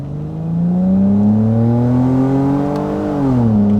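A project car's engine revs while driving in first gear, a loud, close drone that climbs steadily in pitch, drops briefly near the end, then rises again, with no talk.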